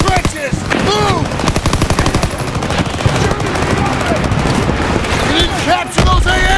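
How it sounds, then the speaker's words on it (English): Dense, rapid machine gun fire rattles continuously in a Call of Duty WWII battle, mixed with scattered gunshots and shouted voices over the steady barrage. "Focus suppressive fire now."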